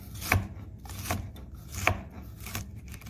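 A knife slices a bell pepper into strips on a cutting board, four evenly spaced crisp chops with a soft thud against the board, close and fairly quiet.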